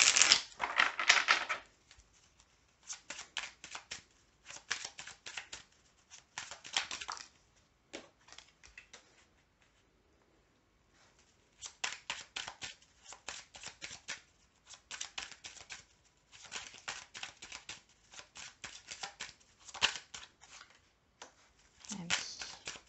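Oracle cards being shuffled and drawn, with soft, quick riffling bursts that come in short runs separated by pauses, faint and close, with no talking.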